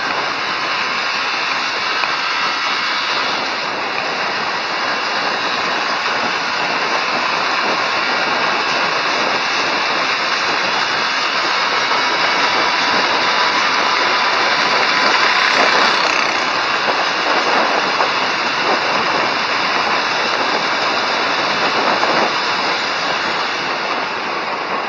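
Yamaha Vixion motorcycle engine held at steady revs in second gear during break-in, a loud continuous drone with a whining tone that barely varies throughout, heard alone without talk.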